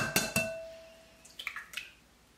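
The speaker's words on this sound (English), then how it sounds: "then you're gonna take one egg, crack that in" Single egg cracked against a bowl and dropped into salmon patty mix: two quick sharp taps at the start, then a soft cluster of light wet clinks and drips about a second later, close and quiet with nobody talking.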